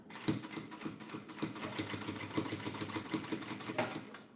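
A sewing machine runs steadily at a small stitch length, its needle clattering in a fast, even mechanical rhythm up close for a few seconds without speech.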